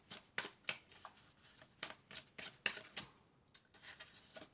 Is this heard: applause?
no